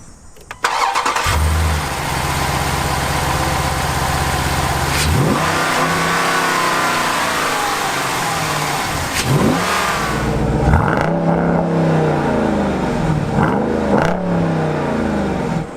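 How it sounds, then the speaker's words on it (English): A 2019 Dodge Durango SRT with a naturally aspirated V8 engine starts with a loud bark, settles into a deep burbling idle, then gets several sharp revs that rise and fall back, held by a 4,000 RPM limit, close and loud. "This engine sounds incredible, and the fact that it's naturally aspirated means no supercharger whine, no turbocharger, nothing like that, just pure V8 goodness."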